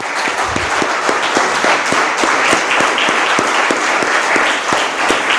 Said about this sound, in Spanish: ¿Le damos un aplauso, Señor?